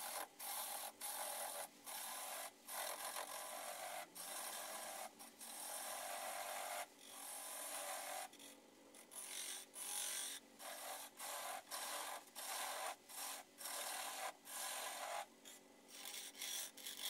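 A wood turning tool scrapes and cuts a tenon off a spinning burl on a lathe, making a steady hissing rasp broken by brief regular pauses as the tool lifts, close and fairly quiet, with no talking.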